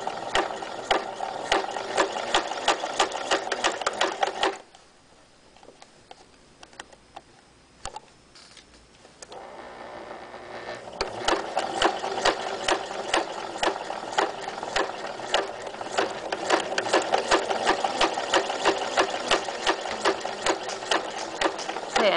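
A sewing machine stitches the lower pocket of a fabric locker caddy in a steady mechanical whir, running for several seconds, pausing for a quieter stretch with faint handling sounds, then resuming loud and continuous.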